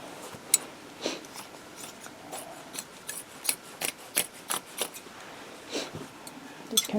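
Scissors snip and trim pieces of minky quilt fabric for a Christmas winter sled crazy quilt, a quick run of close, crisp cuts with soft rubbing between, no talking.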